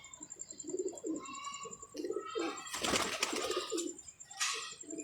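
Pigeons coo in a loft, a run of soft, repeated throaty coos close by, with a burst of wing flapping in the middle and a thin high tone running throughout.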